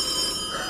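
A telephone rings in a video game, a short steady electronic ringtone, fairly loud and alone.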